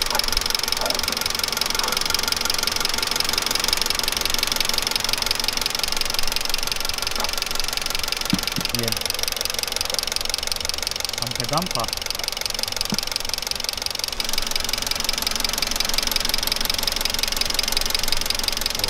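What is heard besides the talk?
LPG gas system injectors working loudly on running car engine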